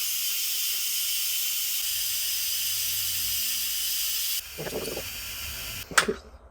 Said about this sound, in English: And then we release the steam.